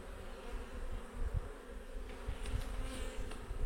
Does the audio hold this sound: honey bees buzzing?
yes